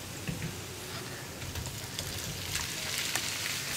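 Chillies frying in a pan as boiled potatoes go in, a soft crackling sizzle with scattered pops and scraping, fairly quiet and continuous without talk.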